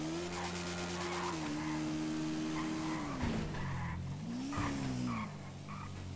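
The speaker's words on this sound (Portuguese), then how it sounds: "De vez ou outra passa uns carros, né, mano?" Cars passing through a busy street intersection in Brazil, one continuous engine drone with shifting pitch as vehicles go by, tire noise and a brief scrape midway, close and steady throughout.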